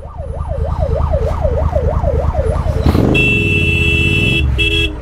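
An ambulance siren wails in rising and falling sweeps through traffic, loud and close, amid engine rumble, then gives way to a sustained electronic tone and horn-like blares.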